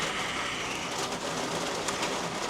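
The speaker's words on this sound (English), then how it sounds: "it's raining again" Rain falls steadily near a boat dock, a broad, even hiss of drops that fills the clip from start to finish with no other sounds.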